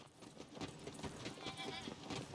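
Sheep bleating in the video game Tiny Tina's Wonderlands, a soft, faint bleat set within a dense, steady wash of game ambience and music, with no clear separation from the background.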